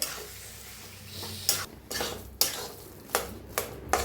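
Boiled potato filling for bread pakora being mixed in a bowl, with a handful of soft scraping and clinking strokes of a spoon spaced across a few seconds, close by and fairly quiet, with no talking.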